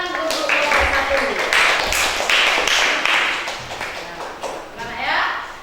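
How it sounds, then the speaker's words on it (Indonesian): Classroom students clapping for a group at a teacher's request, a dense run of close claps over several seconds with children's voices and chatter mixed in. "Tepuk tangan untuk kelompok 1."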